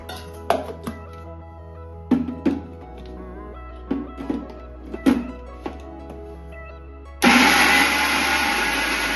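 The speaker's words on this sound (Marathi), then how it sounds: "आता आपण भिजून ठेवलेले पोहे वाटून घेऊया" After a few light clinks and knocks of the jar, a mixer grinder starts up and runs loudly and steadily, grinding soaked poha into batter for yerappe.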